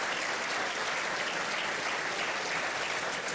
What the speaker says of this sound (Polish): Raz jeszcze wielkie brawa.